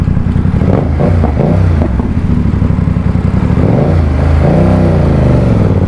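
A BMW F900R motorcycle engine revs loud and close throughout, its pitch rising and falling in a couple of throttle swells.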